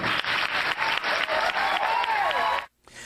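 Studio audience applause at a televised political discussion, dense sustained clapping that cuts off abruptly near the end.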